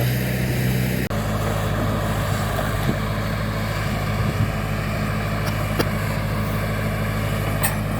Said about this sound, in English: very gently using the bucket from the backhoe to push and pull a little bit of the extra fill dirt